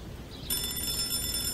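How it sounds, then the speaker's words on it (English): A telephone in the video game Hello Neighbor starts ringing partway through, with a bright electronic bell tone sounding steadily over low background noise. "The phone's ringing."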